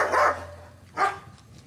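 An electronic dog-bark device installed to scare off thieves lets out two loud barks, a short one followed by a pause and a second bark, with no talking.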